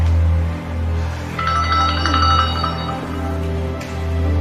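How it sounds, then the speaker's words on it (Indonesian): An indoor telephone rings in a steady repeating trill for several seconds, loud and close, over a low background hum with no talking. "Telepon mana telepon?"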